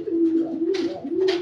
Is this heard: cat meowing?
no